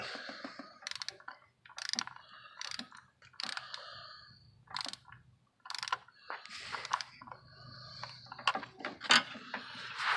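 Ratcheting bursts as valve cover bolts are tightened on a 2005 Jeep Grand Cherokee 3.7L, short clicking runs separated by pauses, close and fairly quiet.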